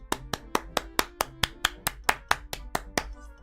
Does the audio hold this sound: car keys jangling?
no